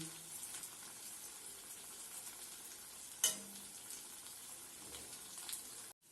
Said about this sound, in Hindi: देखिए हमने तलकर इसको तैयार कर लिया है, दूसरी भी हम तल रहे हैं।